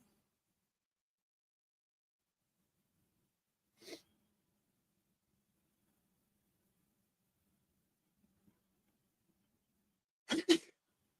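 Two short sneeze-like bursts separated by long near-silence, the second louder and doubled, close to the microphone, during a baseball game broadcast.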